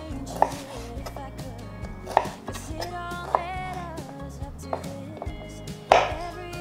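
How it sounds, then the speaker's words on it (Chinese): A knife chops a red bell pepper into diamond pieces on a cutting board, with five or so sharp, distinct strikes spaced about a second apart over steady background music. "我觉得有点大块，可以再切小块一点，变成菱形的形状"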